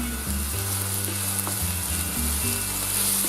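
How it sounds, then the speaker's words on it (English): Onions and chili pepper fry steadily in a hot pan for a chicken korma, a continuous close sizzle that runs loud and unbroken with a low hum underneath and no talking. "Put in the onions and the chili pepper. So just fry it for a few minutes"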